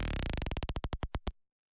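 Warped electronic drums squashed by OTT multiband compression in Ableton give a metallic, buzzy stutter that starts dense and slows into separate hits before cutting off abruptly, with nothing else heard.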